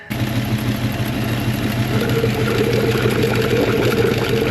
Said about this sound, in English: It's got a wicked exhaust leak.